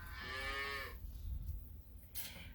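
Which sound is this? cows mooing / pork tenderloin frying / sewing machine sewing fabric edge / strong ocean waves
cows mooing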